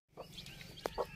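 Country chickens pecking at scattered rice on the ground, with a few short, sharp taps and soft clucks close by over a low, steady background.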